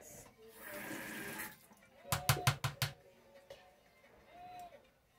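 Tap water runs while rinsing, a soft steady stream with a brief gurgle and a quick run of tapping or splashing bursts in the middle, faint and close.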